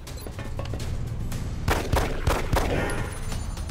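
A pistol fires several shots in XCOM: Enemy Unknown, sharp bursts of game gunfire over a dense, steady background of game sound.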